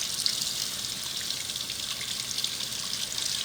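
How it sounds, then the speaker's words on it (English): Tap water runs steadily into a kitchen sink while bell peppers are rinsed under the faucet, a continuous close hiss with no talking. "one of the first things you want to do is you want to wash your peppers off and take the little sticker off"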